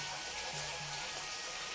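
Spring water runs steadily into the Suraj Kund temple pool in Himachal Pradesh, a soft continuous wash of flowing water with no talk over it.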